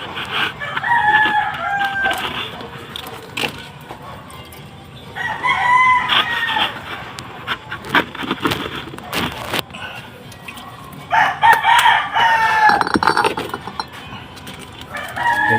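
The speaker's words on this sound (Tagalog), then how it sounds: "Chicken." A rooster crows several times at a kitchen scene, loud and fairly close, with hen clucks and household clatter between the calls and some talking in the background.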